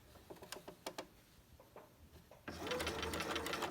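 A sewing machine stitches elastic onto a fabric mask, first a few soft scattered clicks and taps, then the motor kicks in for a steady close whirring run over the last second.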